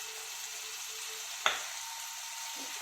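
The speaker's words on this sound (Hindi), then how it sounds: "तो अभी मुझे जितनी ज़रूरत है मैं उतना छौंक रही हूँ" Sarson ka saag being tempered in a hot pan gives a steady low sizzle and crackle throughout, with one sharp clink or tap partway through.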